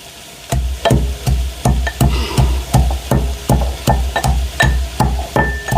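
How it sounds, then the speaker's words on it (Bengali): Potatoes fry in a large pan, with a faint sizzle beneath loud, regular scraping strokes of a spoon that repeat about three times a second, close by and without talk. "আমি আলুটাকে একটুখানি ভাজা করব"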